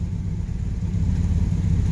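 Alfa GTV engine idling unevenly, a low, close rumble with a faintly lumpy, wavering pulse and no other sounds.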